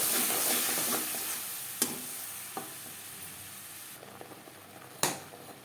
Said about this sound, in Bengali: 10-15 সেকেন্ড জিরে তেজপাতা ভেজে নেওয়ার পর দিয়ে দিলাম নারকেল ও কাঁচা লঙ্কার পেস্ট